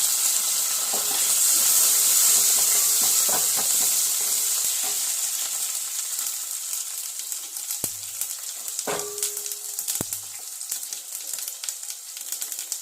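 Onion and curry leaves fry in hot oil with popping mustard seeds, giving a loud, continuous close-up sizzle with a few sharp utensil knocks near the end.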